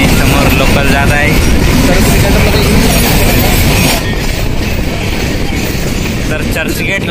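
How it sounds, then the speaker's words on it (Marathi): A Mumbai local train runs near Grant Road on the way to Churchgate, a loud continuous rumble and rattle of wheels and carriages heard from aboard, easing slightly partway through, with voices talking over it. "आणि समोर लोकल जात आहे."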